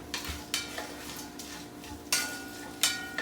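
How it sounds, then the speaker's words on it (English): Onions and spices with salt sautéing in a pan, a soft continuous sizzle broken by several sharp scraping stirs of a utensil against the pan, close and without speech. "this is going to roast the spices as well as sauteing the onion"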